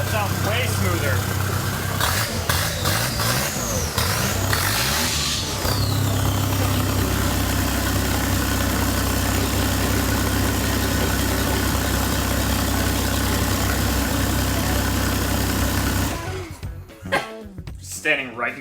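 Steady engine idle, smooth and even on all four cylinders, recorded close in front of the exhaust; a strong continuous low rumble that holds for about sixteen seconds before cutting off, with a voice heard at the start.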